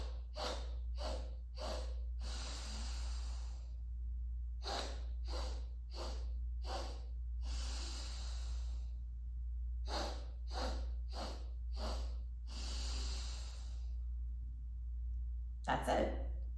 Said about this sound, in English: And then begin the breath.